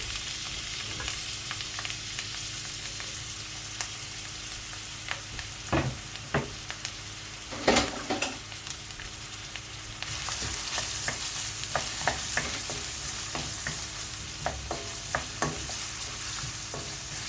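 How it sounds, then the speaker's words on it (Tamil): Onions and green chillies sautéing in hot oil for chicken gravy, a continuous sizzle with intermittent scraping and stirring strokes of a utensil against the pan, the frying growing slightly louder partway through. "வெங்காயம் பச்சை மிளகாய் எல்லாம் போட்டு நல்லா வதக்கிக்கலாம்"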